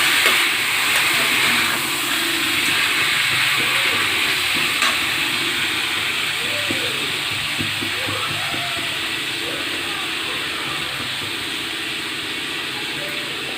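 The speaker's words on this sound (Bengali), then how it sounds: "ম্যারিনেট করা চিকেনটি আমি এর মধ্যে ঢেলে দিলাম। ঢেলে এইভাবে নাড়াচাড়া করে নেব।" Marinated chicken for korma frying in a pan, a steady sizzle and hiss with soft stirring scrapes, continuous and fairly close.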